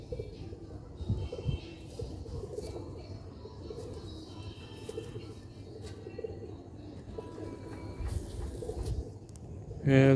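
Pigeon chicks and young pigeons kept for sale at a Sialkot breeder's loft, with low cooing murmurs running steadily under continuous background noise and a louder burst near the end.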